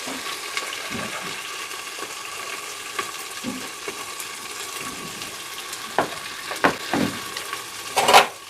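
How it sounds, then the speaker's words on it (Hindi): Onions browning in a pan after dried red chillies, for chana dal made in a pressure cooker: a steady, moderate sizzle and crackle with occasional louder pops and stirring scrapes near the end. "हम इसको ब्राउन होने तक भून लेंगे प्याज को।"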